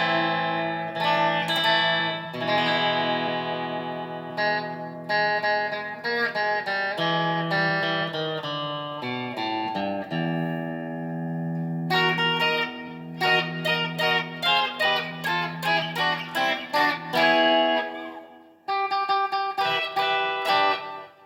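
A Prince Tele HB TE-80 DLX electric guitar plays through delay and reverb, shifting from ringing sustained chords and melodic runs to a quicker passage of repeated picked notes, loud and up close with no talking.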